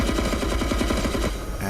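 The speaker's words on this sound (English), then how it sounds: "If he spots anything on the ground, he might shoot." Helicopter door gunner firing a machine gun in the DCS combat flight simulator, a rapid unbroken burst of shots in even rhythm, loud and close, cutting off near the end.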